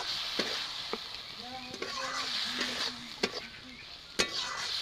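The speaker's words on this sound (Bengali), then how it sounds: "টমাটোটা যতক্ষণ না মেল্ট হচ্ছে ততক্ষণ নাড়াচাড়া করে আমি ভাজতে থাকবো" Tomatoes with salt frying in a pan and being stirred, with a steady close sizzle and occasional sharp spatula taps against the pan, while faint tonal kitchen sounds rise in the background.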